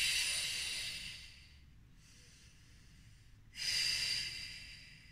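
Slow, audible breaths during a sounding yoga session that combines chanting and breathing: a long airy inhale, a quieter pause, then another breath, close and alone with no talking.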